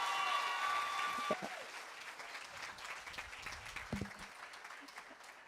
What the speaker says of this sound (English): Just a round of applause as she makes her way to her seat.